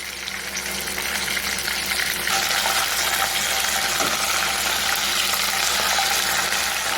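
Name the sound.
pork with enoki mushrooms frying in boiling oil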